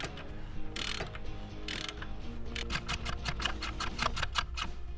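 Hand tap cutting threads for a hose barb fitting on a Miata turbo oil line: faint rhythmic metallic ticking and ratcheting clicks, speeding into a quick regular series over a low background hum.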